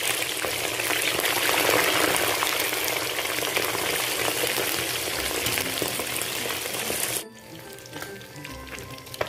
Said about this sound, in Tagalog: Ngayon ay prituhin na natin yung isda.